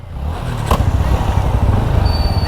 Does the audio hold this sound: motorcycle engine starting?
yes